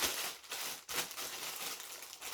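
A plastic courier bag being turned inside out, giving steady, close crinkling and rustling with a brief pause partway through.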